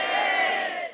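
A comedy club audience cheers loudly together at a stand-up show, a dense, steady roar of many voices that holds for about a second and then begins to fade.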